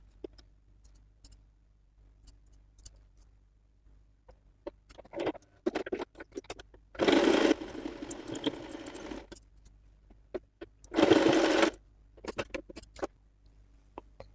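Sewing machine stitching a high neck collar blouse, running in two short bursts of about half a second and one second, with light clicks and handling taps in between.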